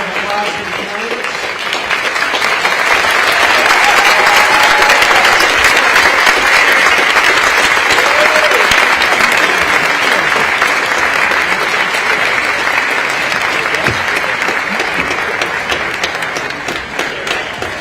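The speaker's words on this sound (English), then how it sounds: "Round of applause for the candidates." Sustained, dense applause from an audience at a Portland mayoral candidate forum, steady clapping filling nearly eighteen seconds with little variation.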